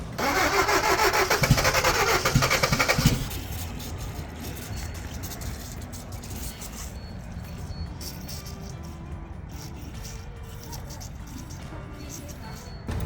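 A Toyota engine being cranked over gives a loud, fast rhythmic starter churn for about three seconds, then drops to a lower steady mechanical rumble, close by.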